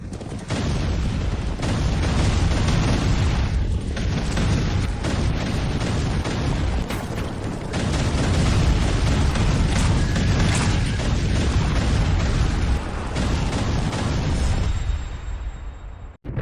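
An anime battle scene with troops firing weapons amid continuous explosions and booms, a loud, dense barrage that barely lets up, with crashes layered throughout before it cuts off abruptly.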